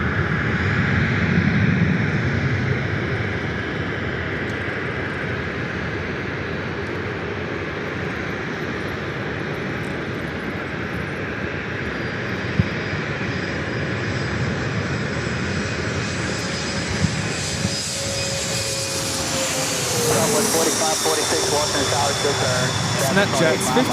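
A Bombardier Challenger jet on short final at LAX builds from a steady roar into a rising, whining turbine pitch that swells loud toward the end, with voices talking over it.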